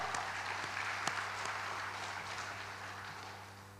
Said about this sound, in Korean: 하나님께 영광의 박수 드립니다.